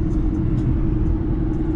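An Audi R8 with a V10 engine runs close by with a loud, steady, deep rumble that stays even throughout and has no clear revving.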